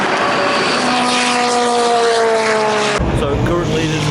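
An Aston Martin hypercar at a 24-hour race screams past, its loud high-pitched engine note sliding downward in pitch as it goes by, then abruptly giving way to a duller roar as it moves away.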